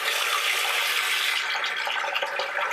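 A kitchen tap runs steadily into a sink to make soapy dishwater, a loud, even rush of water throughout with slight splashing toward the end.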